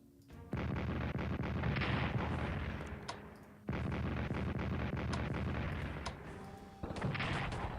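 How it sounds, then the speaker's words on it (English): Bombing attack in the Strategic Command WWII war-in-the-Pacific video game, with heavy booming blasts that swell and fade in two or three long rumbling waves, loud and dense, with no voices. "Wang Chao, we bombed them"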